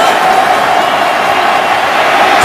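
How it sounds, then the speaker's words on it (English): A large football crowd roars at Gillette Stadium during an NFL game between the Browns and Patriots, a dense, steady wall of cheering that holds at full volume throughout without pause. "Tremendous crowd noise at Gillette."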